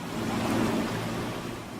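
Stormy ocean waves surge as a broad, steady rush of surf with a slight swell near the middle, loud and continuous with no voices.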